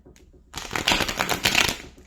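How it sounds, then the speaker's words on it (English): A deck of tarot cards is shuffled in a short riffle of rapid papery flutters and clicks, close and crisp, after a quiet moment. "We're going to give this 3 shuffles and then we're going to move on."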